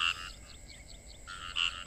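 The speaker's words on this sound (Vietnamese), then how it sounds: "Cóc nhái ở đường kêu quá trời" Toads and frogs croak along a rural road at night in the Vietnamese countryside, a dense, continuous chorus of rapid pulsing calls, with louder nearby croaks rising over the background and no talking.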